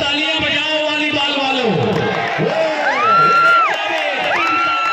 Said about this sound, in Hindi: ये तालियां बजाओ